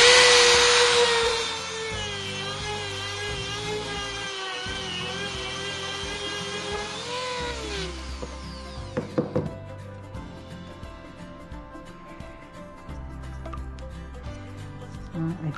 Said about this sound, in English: I have to sand down more inside